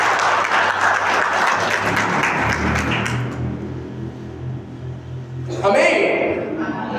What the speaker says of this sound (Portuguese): Dá uma salva de palmas para a palavra de Deus.